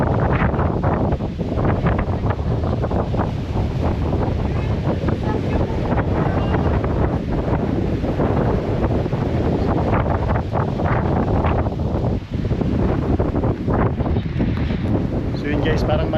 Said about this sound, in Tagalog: Makalakas ang hangin dito.